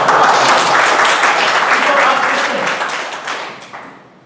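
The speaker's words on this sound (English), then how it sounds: "I think we need to give him a bit more energetic clap." Toastmasters meeting audience applauding energetically, a dense sustained burst of many hands clapping that gradually fades out toward the end.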